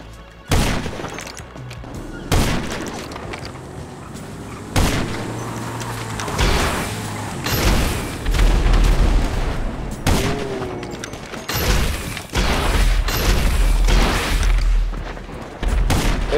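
Rockets explode and gunfire rattles in a 4v3 online shooter match: heavy booms and dense bursts of fire come in repeated loud waves, with little pause between them.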